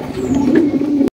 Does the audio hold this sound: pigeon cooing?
yes